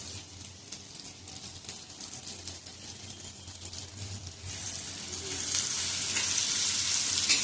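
Finely chopped onion sizzles and fries in a pan for kantoli bhaji, a steady close crackle that grows louder and hissier toward the end, with a few stirring scrapes.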